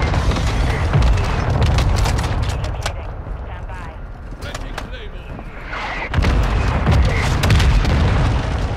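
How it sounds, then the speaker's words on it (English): Booming explosions and gunfire in the video game Call of Duty Modern Warfare 2, loud repeated blasts and crackling shots filling the mix while a player talks over them. "There are so many fucking explosions."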